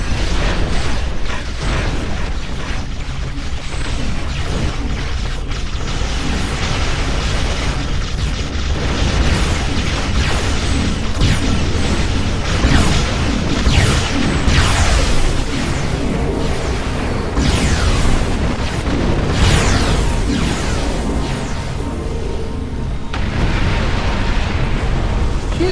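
Starship combat in Star Trek Online, with a steady bed of mechanical weapon fire and repeated booming explosions and bursts, loud and continuous throughout.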